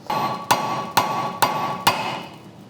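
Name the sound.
hammering out tie rod end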